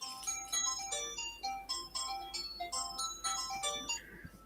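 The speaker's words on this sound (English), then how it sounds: "Somebody's got their phone ringing." A mobile phone rings with a melodic, tinkling ringtone tune, a quick sequence of bright chime-like notes repeating over several seconds, fairly faint in a quiet room.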